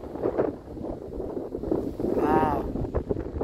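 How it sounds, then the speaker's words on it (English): Wind gusting across Long Lake in Alberta, heard from a fishing boat with a trolling motor: a continuous rough rumble and buffeting close to the microphone, with a brief tonal whine in the middle. "The wind's blowing quite a bit, eh?"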